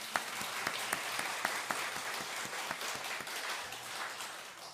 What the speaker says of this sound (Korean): 우리 격려의 박수 한번 치겠습니다